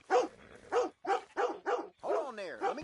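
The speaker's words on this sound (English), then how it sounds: "You're a good dog." Dog barking in Red Dead Redemption 2, a run of five or six close, loud barks and yelps in an uneven rhythm, the last ones blending into a whiny, pitch-sliding vocal.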